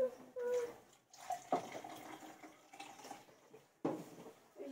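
Water runs from a household tap in a home kitchen, a steady hiss with a few splashes and clatters, while voices talk nearby.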